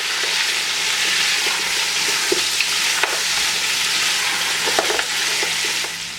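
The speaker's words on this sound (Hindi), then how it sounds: "इसको आप इसके अंदर थोड़ा सा पहले फ्राई करेंगे" Boiled mutton fries in a karahi, a loud, steady sizzle broken by sharp clicks and scrapes of a spoon stirring against the metal pan.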